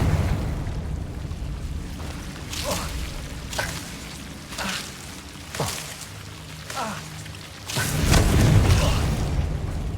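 Spell-casting in Hogwarts Legacy, including the Confringo fire spell exploding: a series of swooshing whips and booming blasts at irregular intervals, ending in a louder, longer rumbling burst over game ambience.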